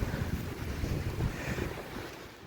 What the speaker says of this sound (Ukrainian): Да, вот это бешеная сила ураган обрушился.